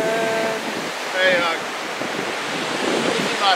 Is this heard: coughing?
no